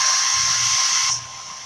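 A hair dryer blows on a chalk stencil line on a black framed board, a steady close whir that drops to a lower, softer level near the end.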